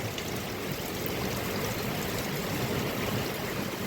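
Rainwater streaming and trickling into puddles outdoors, a steady and fairly loud rushing, splashing wash with no talking.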